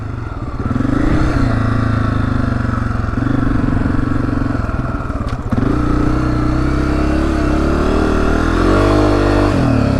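A Honda CRF250F dirt bike engine rumbles loudly up close while riding in the Arizona desert, revving and falling through gear changes with a steady throaty drone and no talking.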